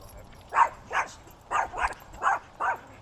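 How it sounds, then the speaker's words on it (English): A pet dog barks during an obedience training session with distractions: six short, sharp barks in three quick pairs, close and fairly loud. "I don't care that she's barking right here."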